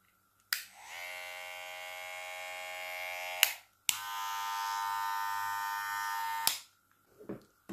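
A Hungarian-made Wahl Cordless Senior hair clipper with a stagger-tooth cutter blade switched on twice, each run a steady loud electric buzz of about three seconds starting and stopping abruptly, with a few clicks after.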